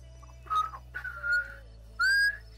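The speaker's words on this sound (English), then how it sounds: "Stop whistling, you mug." A person whistling a few short rising and falling tones in quick bursts, close and clear over a low background hum.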